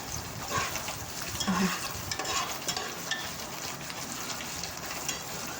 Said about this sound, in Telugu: ఆనియన్స్ అనేది బాగా వేగాలి.